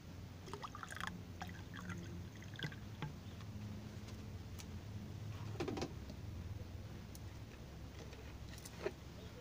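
Water being poured into a glass of baking soda and lemon at low volume, a soft steady trickle with faint clinks and background noise, no talking.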